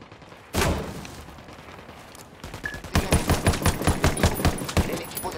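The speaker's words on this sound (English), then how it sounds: "Opening fire on these fuckers." Gunfire in the tactical shooter Ghost Recon Wildlands: a loud single shot, then a rapid burst of automatic fire with sharp repeated cracks, close and dominant, with faint game ambience underneath.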